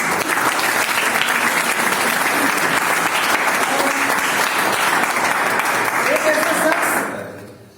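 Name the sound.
loud applause for the anchor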